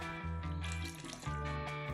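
Tap water, 1.5 litres in all, runs into an Instant Pot for chashu pork, a steady pouring stream with a brief break before it flows again, heard alone.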